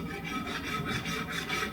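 Sandpaper rubbed back and forth along a ski edge during a World Cup ski tuning session, a close, steady rasping scrape in quick repeated strokes with no talk over it.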